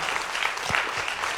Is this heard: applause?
yes